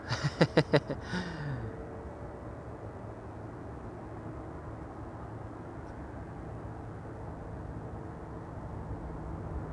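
An Airbus A340 airliner at Amsterdam Schiphol Airport gives a distant, steady low roar of jet engines after a brief burst of close rhythmic clatter at the start.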